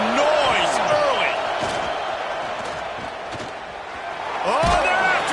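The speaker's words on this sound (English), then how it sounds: "This crowd bringing the energy and noise early." Football stadium crowd at a college game against Tennessee, a broad roar of cheering filling the whole clip, swelling louder toward the end, with announcer-like voices and whistling tones riding above the noise.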